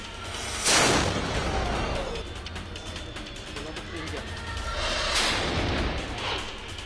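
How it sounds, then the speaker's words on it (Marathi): Ceremonial cannon salute at Kolhapur's Ambabai temple during the Navratri Ghatasthapana ritual: two loud booms a few seconds apart, each with a rumbling tail, over crowd noise and a speaking voice. "कोल्हापूरच्या अंबाबाई मंदिरात तोफेच्या सलामीने घटस्थापनेचा विधी संपन्न झाला"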